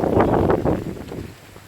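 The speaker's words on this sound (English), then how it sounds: "Pardon the wind and everything." Wind buffets a microphone in a garden beside a raised bed of capsicum plants, a loud, rumbling low roar that gusts and then eases toward the end.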